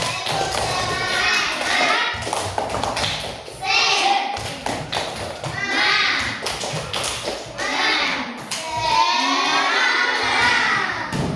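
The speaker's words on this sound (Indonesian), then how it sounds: "kita tepuk semangat dulu. 1, 2, 3" Children do the tepuk semangat rhythmic clapping chant, patterned claps and thumps interleaved with loud shouted chanting voices in bursts, a lively group close by.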